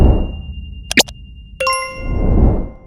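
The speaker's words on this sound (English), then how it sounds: "and definitely hit that notification bell to be notified when a GK David movie story drops" Notification bell sound effect: a quick bubbly blip followed by a bright metallic ding that rings on and decays, set against a low rumbling background.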